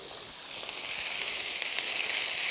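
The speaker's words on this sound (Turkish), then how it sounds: "Bu arada etlerimizi de kızgın yağımızın içine atıyoruz" Meat for Bodrum çökertme kebab dropped into hot oil, an airy hiss that swells within the first half second into a loud, steady close-up sizzle.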